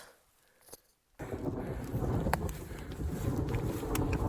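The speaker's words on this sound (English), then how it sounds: "thundering overhead, and now it's starting to hail" Wind roars steadily across the microphone on an exposed mountain ridge in the Tetons during a storm, with a deep rumble of thunder overhead as hail begins. The sound starts quiet, then jumps to a loud, sustained wind blast.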